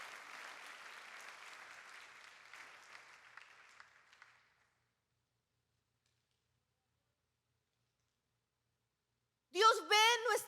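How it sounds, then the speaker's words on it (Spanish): A church congregation applauds for several seconds, a moderate steady clatter of many hands that fades out into silence before a voice starts talking. "denle un fuerte aplauso a Dios"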